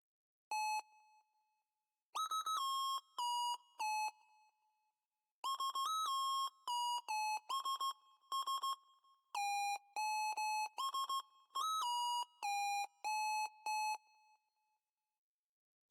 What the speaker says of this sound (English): It's called Porter Square Lead.